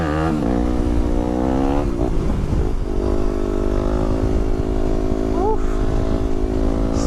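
A motorcycle's engine runs loud and close during a wheelie, holding a strong droning tone with a brief rise and fall in pitch midway. A voice talks over it.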